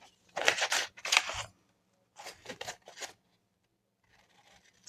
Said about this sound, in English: there's other tutorials out there for those who are interested in fussy cutting and